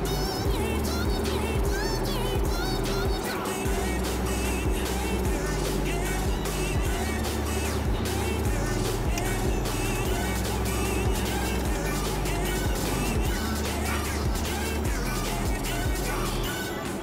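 A Maserati GranTurismo MC sports car engine runs loud and continuous while driving, with shifting revs and road roar throughout, no clear talk on top.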